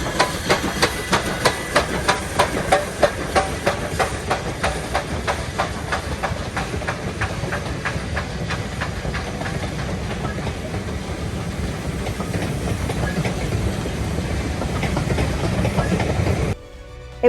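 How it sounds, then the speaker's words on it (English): A Churnet Valley Railway steam train passes close by with a rapid, regular clickety-clack of wheels over rail joints and a steady hiss and rumble. It stays loud before cutting off abruptly near the end. "And then we saw this, the Churnet Valley Railway."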